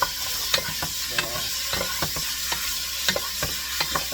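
Food frying in oil is stirred in a pan over a steady sizzle. Scraping strokes come at an irregular rhythm, close and fairly loud, with no talking.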